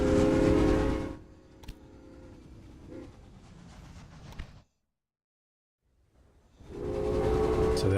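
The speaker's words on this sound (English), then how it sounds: "Oh, it's the passenger train" A passenger train rolls along its line in the Railway Empire game, a loud rumbling run that fades to dead silence midway before the rolling noise returns strongly near the end.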